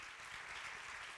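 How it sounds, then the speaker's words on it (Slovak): An audience at the Žena v IT 2024 awards gala claps in sustained, dense applause that fills the brief moment evenly from start to finish. "Zaslúži si ten obrovský potlesk."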